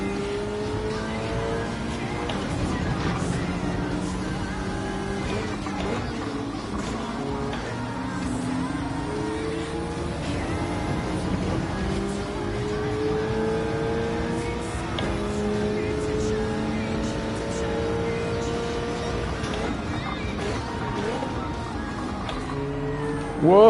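Racing cars in a video game, a Porsche among them, drone and whine with continuous engine notes that rise and fall as they shift gears, plus occasional tire squeal, loud and unbroken throughout.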